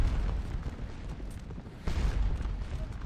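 Napoleonic infantry and artillery fire at Quatre Bras in the Scourge of War Waterloo game: a continuous low rumble of distant volleys and booming guns that swells sharply near the two-second mark.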